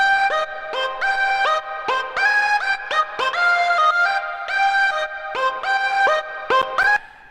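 Synthwave lead synth made in Ableton Live plays a bright, buzzy melodic line of short staccato notes with sharp attacks, clear and upfront with nothing else behind it and no speech.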